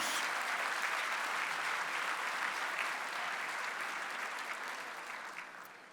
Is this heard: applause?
yes